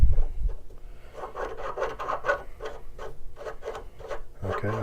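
A thread tap being turned by hand into wood for an ergonomic handle, giving a series of close, dry rasping scrapes that come in short repeated strokes with brief pauses between them.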